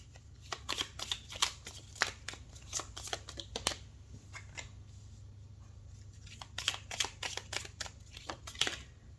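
Tarot cards are shuffled by hand in quick riffling bursts, a pause in the middle, then more rapid shuffling, close and soft over a faint low hum.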